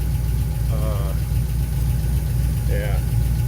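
A rebuilt 327 V8 from a 1967 Corvette idles steadily with a deep, even rumble up close, with a couple of brief voices heard over it.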